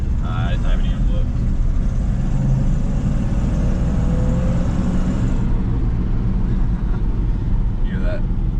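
A 1988 Dodge Power Ram's engine, revived after sitting 23 years, runs on a knockoff Edelbrock carburetor with a steady, loud low rumble that holds throughout, while a person talks over it.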